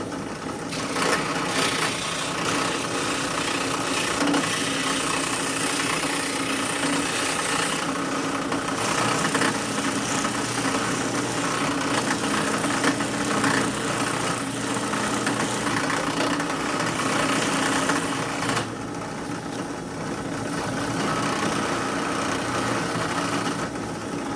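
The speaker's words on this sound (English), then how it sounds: "Now I'm going to use some simple 120 grit sanding belts." A belt sander with 120-grit sanding belts drones steadily and loudly for a long stretch, its grinding whir shifting slightly in pitch as pressure changes.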